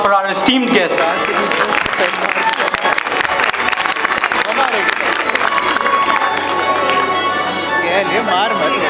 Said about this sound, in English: I would request the audience to please give a huge round of applause for our esteemed guests